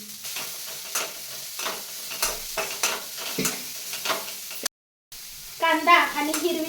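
Sliced onion and chopped green chili sautéing in a pan, with a run of rhythmic stirring scrapes over a soft sizzle, a brief break, then a short burst of voice near the end.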